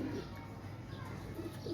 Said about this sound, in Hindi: ये कबूतर हमारा बहुत मशहूर कबूतर है